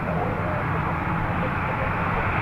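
A Ryanair airliner departing Dublin Airport gives a dense, constant engine roar that stays loud and even throughout, with no voices on top.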